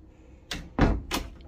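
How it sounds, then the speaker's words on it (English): A rehung RV door swings shut after wood-shrink repair and shimming, giving a short scrape then a solid thunk and a lighter rattling knock, close by in a quiet room. "We'll rehang the door and see if we closed up the gap."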